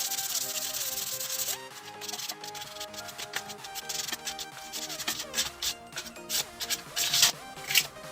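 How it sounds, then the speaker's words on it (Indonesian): Sandpaper rubbed briskly over the surface of a PVC pipe being shaped into a motorcycle winglet, close and loud, with a smooth continuous stretch giving way to short, choppy back-and-forth strokes. "Sebelumnya kita amplas dulu ya semua permukaannya teman-teman"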